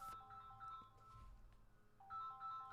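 A phone ringtone chimes in a repeating melodic pattern at moderate loudness, behind the chatter of a gaming talk stream about Xbox and PlayStation news.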